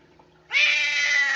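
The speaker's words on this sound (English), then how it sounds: "Oh, Kitty's pissed off" An angry cat lets out one loud, sustained, tense meow that starts abruptly about a third of the way in and holds steady to the end over a quiet room.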